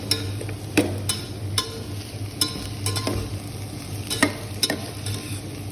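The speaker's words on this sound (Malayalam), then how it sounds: "വാടിയ ചെറിയ ഉള്ളിയിലേക്ക് നമ്മൾ ഇഞ്ചി, അതുപോലെ വെളുത്തുള്ളി, പച്ചമുളക് എന്നിവയും കൂടി ചേർത്ത് ഒന്നുകൂടി നന്നായി വഴറ്റണം" Shallots, ginger, garlic and green chilies sautéing in a pan, a steady close sizzle with repeated sharp clinks and scrapes of a stirring spoon at irregular intervals, no voices.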